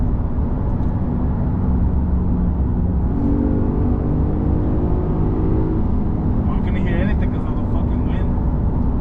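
Volkswagen MK4 GTI 20th Anniversary Edition engine running with no exhaust fitted, a loud, steady raw drone with a brief rising rev in the middle, while people talk over it.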